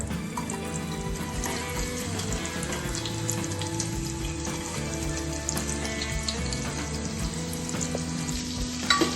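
Chopped onion frying in hot tempered oil for masala khichdi, a continuous close sizzle with faint stirring clinks and no talking.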